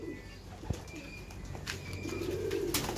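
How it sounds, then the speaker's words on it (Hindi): White pigeons, four mated pairs of large birds kept for sale, coo softly and intermittently nearby, with a few sharp clicks and light rustling around them. "देखिए ये आठ कबूतर हैं, चार जोड़े हैं"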